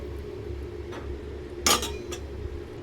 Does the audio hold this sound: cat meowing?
no